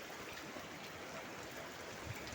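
Rain pours down steadily with water streaming and running nearby, a constant dense hiss and rush at moderate level with no voices.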